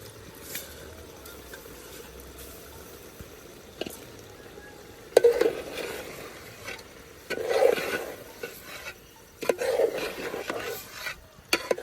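Chicken sautéing in a pan for biryani, with a soft sizzle under repeated scraping and stirring strokes of a utensil against the pan, intermittent and close.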